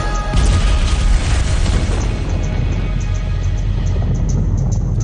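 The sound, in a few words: TNT explosion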